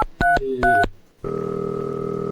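A phone is dialed with two quick bursts of multi-tone keypad beeps, then after a short gap a loud steady ringback tone holds until the end.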